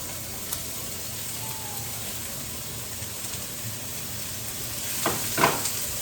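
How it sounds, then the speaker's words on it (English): Zucchini sizzles in a frying pan for a frittata, a steady close hiss and crackle that swells briefly with a couple of louder pops near the end. "And now we're going to add the zucchini."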